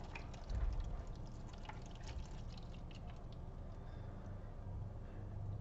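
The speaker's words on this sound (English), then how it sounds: "you're just going to pour this into your tray" Water is poured into a perforated microgreen tray, giving a faint, steady trickle and splash close by with a brief louder gush near the start, and no voices.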